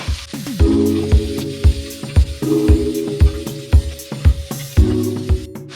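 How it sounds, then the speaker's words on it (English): Peppers and onions hiss and sizzle steadily in an oiled pan, a close and fairly loud frying sound that runs alongside a rhythmic thumping backing beat. "I'm adding a little bit of oil, swish it around, and now I'm adding my peppers and onions."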